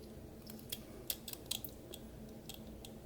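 Pocket knife whittling a small walnut wood gnome, a few crisp, close cutting scrapes and snicks spaced irregularly over a faint background hum.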